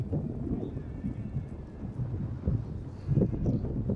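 Racehorses galloping through the final lap of an ambling horse race (rahvan at yarışı), a dense run of hoofbeats and thumps heard at a distance through wind noise, growing louder near the end.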